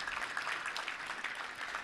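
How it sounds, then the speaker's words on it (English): An audience at a Little Rock Touchdown Club gathering applauds Nathan Brown's parents, Becky and Glenn, with a steady, even round of many hands clapping at moderate loudness and no talking. "Let's give you a round of applause."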